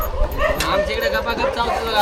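Village dogs yelping and barking in short bursts close by, mixed with whimpers, while people talk over them throughout.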